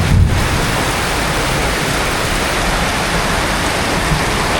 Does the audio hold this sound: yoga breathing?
no